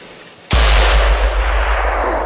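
A rifle shot fired at a bull elk during a hunt: one loud, sharp blast with a heavy low boom, followed by a long rolling echo that dies away outdoors.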